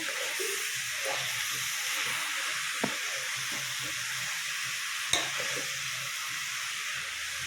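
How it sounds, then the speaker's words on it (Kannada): Carrot palya frying in oil in a pan makes a soft, steady sizzle with a gentle hiss, broken by two brief sharp clicks of a utensil against the pan. "ಈಗ ಎಲ್ಲ ಹಾಕ್ಕೊಂಡಿದ್ದಾಯಿತು ಆಯಿಲಲ್ಲಿ ಚೆನ್ನಾಗಿ ಫ್ರೈ ಮಾಡ್ಕೋಬೇಕು"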